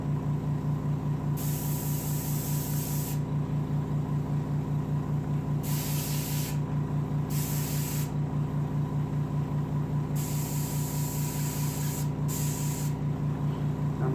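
Short bursts of aerosol spray paint hiss onto a taxidermy bobcat mount base, five separate sprays of a few seconds each over a steady low background hum.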